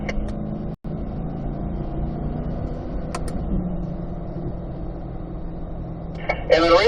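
A car on a race track during a warm-up lap climbs up through third and fourth gear, a steady moderate engine hum running throughout with a brief cut near the start and a rise at the end.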